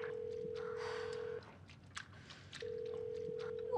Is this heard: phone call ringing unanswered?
yes